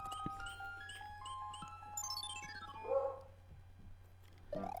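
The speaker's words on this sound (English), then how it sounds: "Wonder what my dog's barking about." A dog barks a few times in the background, faint and brief, under steady retro platform game music from Super Mario Bros. 3 with its chiming melodic effects.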